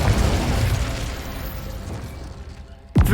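A fiery spell blast from Hogwarts Legacy on PC, a loud booming explosion at the start decaying into rumbling debris, then a sharp new burst right at the end.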